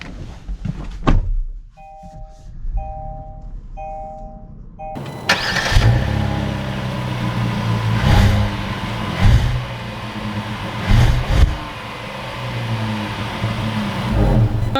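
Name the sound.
2022 Kia Carnival minivan engine starting and accelerating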